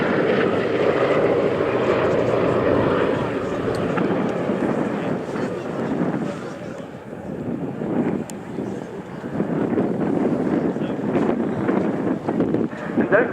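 Engines of a B-17 Flying Fortress on an airshow display pass make a broad, steady, loud drone that eases slightly midway and then swells again. Wind buffets the microphone and a commentator talks throughout.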